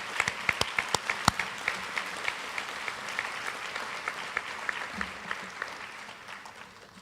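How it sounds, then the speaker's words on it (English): A high school athletic banquet crowd claps for fall MVP and award winners, with a few sharp close claps standing out early over sustained, moderately loud applause that slowly thins toward the end. "Let's give a round of applause for our fall MVP and Panther Award winners"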